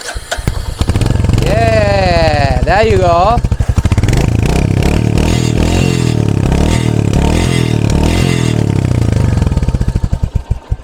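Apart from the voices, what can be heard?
motorcycle engine running through exhaust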